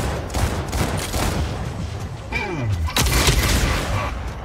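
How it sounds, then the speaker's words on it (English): Incoming weapon fire in the Mech Arena video game, a loud, busy stretch of repeated impacts and blasts with whooshing projectiles and a pitch-falling sweep, in the thick of battle. "Incoming fire!"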